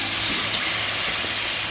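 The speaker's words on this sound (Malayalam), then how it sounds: "അതിനകത്തേക്ക് നമ്മൾ വാളംപുള്ളിയുടെ വെള്ളമാണ് ചേർക്കുന്നത്" Tamarind water poured into fish masala for fish pollichathu, a steady, dense gushing rush that holds level and loud throughout with no voices.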